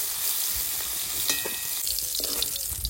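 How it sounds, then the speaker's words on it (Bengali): Prawns fry lightly in a pan of oil, giving a close, steady hiss with occasional pops and faint scraping of a utensil. "চিংড়ি মাছটা হালকা ভেজে নিয়েছি, এবার তুলে নেব, বেশি ভাজবো না।"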